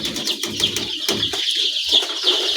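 Young chicks in a farm brooder chirp nonstop in high, overlapping peeps, a dense close-up flock chorus with occasional lower clucks and rustling beneath.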